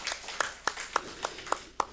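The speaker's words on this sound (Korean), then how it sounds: "박수로 축복하겠습니다." A church congregation at a Sunday morning service claps for members celebrating birthdays, with about seven sharp, evenly spaced claps heard at moderate distance and no talk.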